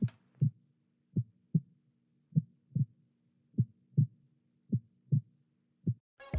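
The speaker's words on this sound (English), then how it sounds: "the heartbeat sound and the heart monitor sound" Synthetic heartbeat sound effect used in a hip-hop beat, soft low thumps in paired lub-dub beats repeating steadily, dry and alone with no talking.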